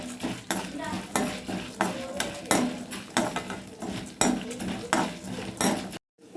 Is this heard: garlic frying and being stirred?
yes